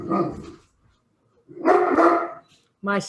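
A dog barks nearby during an online cybersecurity summit session, giving a few loud yapping barks separated by short silences, heard alone without talk.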